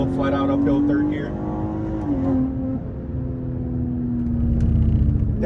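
A BMW G30 540i with a 530 hp engine pulling flat out uphill in third gear on a winding mountain road, its engine tone rising steadily under a loud cabin rumble with what seems like speech over it.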